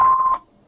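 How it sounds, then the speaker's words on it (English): An answering machine gives a single short steady beep tone that cuts off abruptly, loud and close, with no talking. "please leave a message after the beep,"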